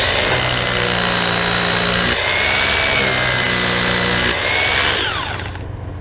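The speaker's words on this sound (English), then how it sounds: "It's going to be a lot of drilling." A power drill bores into 2-inch wall studs while hanging a dimensional sign, its motor whining loud and continuous with a brief pitch dip midway, then winding down at the end.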